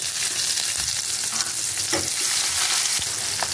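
Chopped onions hit hot oil in a wok with whole cumin, dried chilli and bay leaf for a boal fish kalia, a loud steady sizzle with a few scraping stirs and no voices.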